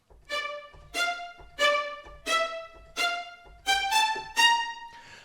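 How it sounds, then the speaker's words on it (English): A violin spiccato sample played on a keyboard gives eight short, bouncy detached notes in a steady rhythm, each clipped and bright, alone without talk. "I'm going to play a violin one spiccato"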